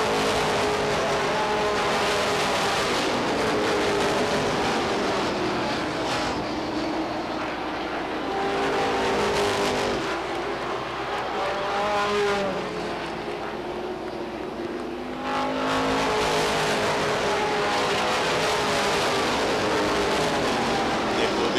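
Stock cars race around Beech Ridge Motor Speedway, a continuous roar of engines rising and fading as cars pass, with a race announcer talking over the noise.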